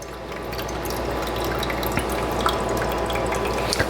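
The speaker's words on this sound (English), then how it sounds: "And it's refilling the tray now with water." Water trickling and dripping steadily inside a Silonn countertop ice maker as it refills its tray, a close, continuous liquid sound with small splashes over a low mechanical hum.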